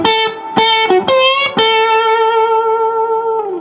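A major blues lick on electric guitar, a handful of sharp plucked and bent notes ending on a long ringing sustained note, loud and close with a slightly overdriven tone and no talking.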